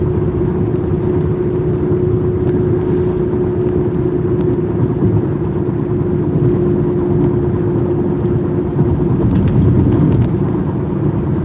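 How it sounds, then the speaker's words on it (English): A road vehicle hauling a boat for storage rolls past in afternoon traffic, a loud, steady engine rumble and tire whir that holds evenly for the whole stretch, swelling slightly near the end. "Looks like somebody bringing their boat for storage."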